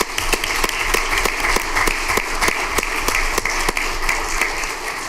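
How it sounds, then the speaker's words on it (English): At a school board meeting, an audience applauds a girls' team with steady, close clapping in which individual sharp claps stand out over the general patter. "So those things alone need a big round of applause."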